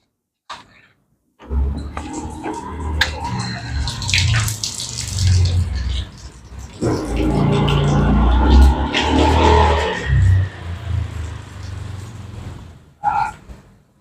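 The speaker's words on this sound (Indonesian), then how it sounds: "ini hasilnya showernya" Hot water sprays from a camping car shower fed by a small pump, a loud continuous hiss and splash starting after a click and running steadily before cutting off near the end.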